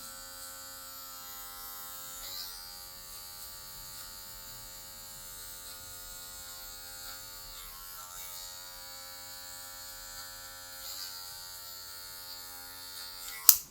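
Electric hair clippers run steadily at close range with a constant high buzz, trimming hair with just the tip of the blade while grading a dark tone into grey, with a brief louder click right at the end.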